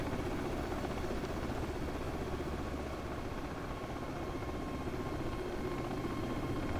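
UH-60 Black Hawk helicopter in a flight simulator, approaching a runway: a steady, moderately quiet rotor and turbine drone with a constant hum and no variation in level.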